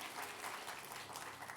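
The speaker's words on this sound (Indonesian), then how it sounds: "Tepuk tangannya sekali lagi yang lebih meriah buat Tuhan kita" A church congregation applauds for God during a service, a dense, steady patter of many clapping hands, soft and somewhat distant, with no voices over it.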